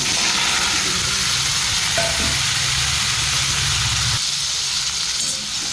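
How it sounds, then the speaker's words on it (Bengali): Whole cumin seeds sizzling in hot oil for tempering, a loud continuous frying hiss with a low bubbling rumble underneath, steady throughout without talking. "তেল গরম হয়ে গেছে, ফোড়নের জন্য গোটা জিরে দিয়ে দিচ্ছি।"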